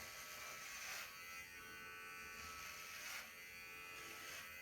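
A Dingilg electric shaver trims a beard, its steady close buzz running without a break and swelling slightly in two spots as the head presses into the whiskers.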